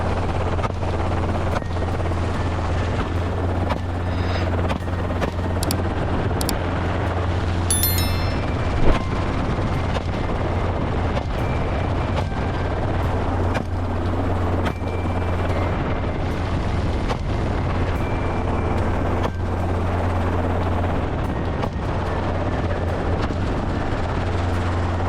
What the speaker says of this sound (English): the Bell 206 Jet Ranger is the most popular standout civilian helicopter known for its high maneuverability, fast speed, and excellent stability